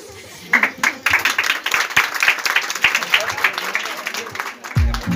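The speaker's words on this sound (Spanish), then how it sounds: "Fuerte los aplausos" Audience applause at the close of a comedy dance show, with clearly separate rhythmic claps growing into a fuller burst of clapping, crowd noise and voices underneath, ending in a low thump.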